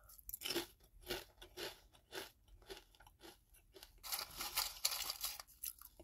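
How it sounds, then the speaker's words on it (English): Close, crisp crunching of Kettle Brand Backyard Barbeque kettle potato chips chewed with the mouth closed, a steady run of bites and chews building into denser crackling toward the end, with no talk. "Let's do a closed mouth crunch."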